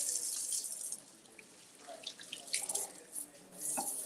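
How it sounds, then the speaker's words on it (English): Running tap water splashing into a sink during hand washing, a close hiss that fades midway and then surges back with uneven splashes. "Let's clean hands."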